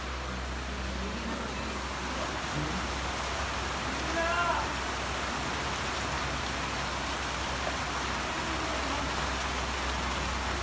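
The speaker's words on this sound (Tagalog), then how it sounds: "grabe ang lakas po ng ulan doon sa labas" Heavy rain falls steadily outside, a dense, continuous hiss and patter over a low rumble, loud and unbroken throughout, with a faint brief sound partway through.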